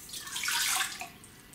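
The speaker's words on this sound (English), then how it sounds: "you are going to add in your dry yeast and some lukewarm water" Lukewarm water pours into a bowl with dry yeast for pizza dough, a short hissing splash heard close up and on its own.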